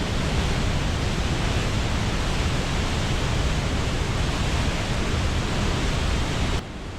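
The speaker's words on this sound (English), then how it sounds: "The power of this river is absolutely magnificent." A powerful river on Minnesota's North Shore rushes in a dense, steady roar of broadband water noise, loud and close, with no voices, before the level drops abruptly near the end.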